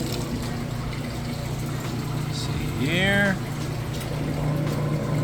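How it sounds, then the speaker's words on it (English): A Whirlpool Gold Series washer drains water after its rinse cycle, before the final spin, with a steady pump hum. A short rising whine is heard, and a voice speaks briefly. "we're moving out of the rinse cycle now, draining for that final spin"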